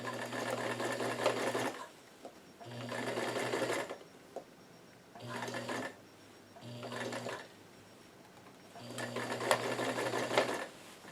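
A sewing machine stitches the bill of a newsboy cap in four close, even bursts of rapid mechanical whirring, with short quiet pauses between the runs.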